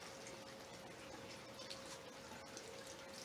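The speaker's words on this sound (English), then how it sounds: "So I'm giving her some more water." Water pours steadily into the soil of a potted spider plant, a continuous soft gushing and trickling with no pauses, close and fairly quiet.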